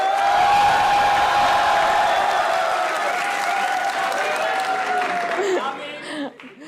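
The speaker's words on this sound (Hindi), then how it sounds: "जिनका ख्याल है कि मैं नीलम से ज्यादा बुरा था, वो तालियां बजाइए" Applause from a studio audience at a television comedy show, continuous clapping with some cheering and crowd noise that holds for several seconds before tapering off, followed by brief talk.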